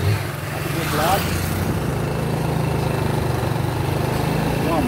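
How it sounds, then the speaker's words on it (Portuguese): A motorcycle on an unpaved, potholed residential street in Itamaraju, Bahia, its engine droning steadily and fairly close for several seconds, a faint voice briefly underneath. "Tem uma moto aqui que deu um susto agora"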